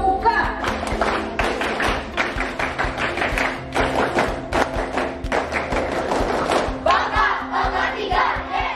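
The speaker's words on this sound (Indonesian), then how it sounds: "Dua kali tepuk pramuka." A scout group performs the Pramuka rhythmic clap twice. Patterned bursts of sharp claps and thumps are punctuated by chanted group voices, loud and close, running for nearly nine seconds.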